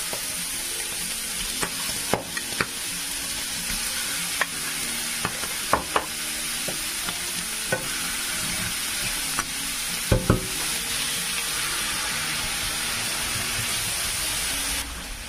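Sofrito for a seafood fideuà sizzles steadily in a stainless steel pan with paprika, while a spoon stirs and scrapes in scattered light knocks, close up and without talk.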